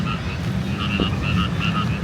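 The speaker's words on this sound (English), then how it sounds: "Oh, I think it's frogs." Frogs croak in a repeated chirping chorus from a lily pad pond over a steady low background hum, moderately distant, at night in Ho Chi Minh City, Vietnam.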